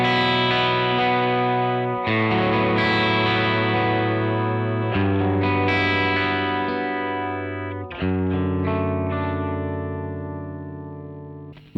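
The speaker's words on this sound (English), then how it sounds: "So now what you're hearing is my guitar going through my interface into the reamp box," An electric guitar is re-amped through a Walrus Canvas re-amp box into a Matchless amplifier. Sustained, saturated chords change every few seconds with a thick, chorus-like shimmer, playing alone and loud throughout before fading slightly at the end.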